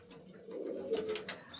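A pigeon of a prized flying pair coos softly, a low rolling hum swelling near the middle of a short stretch, with faint chirps above it; no voices.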